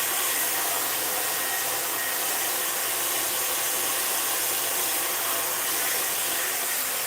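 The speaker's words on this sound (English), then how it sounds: "So now I'm going to go ahead in with the concentrator nozzle" Hair dryer fitted with a concentrator nozzle, drying a dog's coat, a loud, steady, close airy roar that runs unbroken throughout, no talk.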